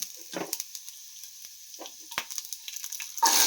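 Green chillies dropped into a hot pan for chickpea sundal set off short bursts of sizzling and light frying crackle, with a few brief clicks of stirring and a louder hiss at the end.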